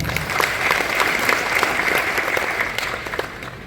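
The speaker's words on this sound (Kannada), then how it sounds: "ಅದಕ್ಕಾಗಿ ಒಂದು ದೊಡ್ಡ ಚಪ್ಪಾಳೆ" Sustained audience applause fills a public gathering in Hassan for district collector Latha Kumari, a dense, even wash of many hands clapping at close range that holds steady before easing slightly at the end.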